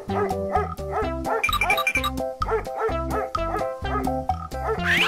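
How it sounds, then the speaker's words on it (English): A cartoon dog barks repeatedly in short yelps over bright, steady children's music, loud and close throughout. "Dog."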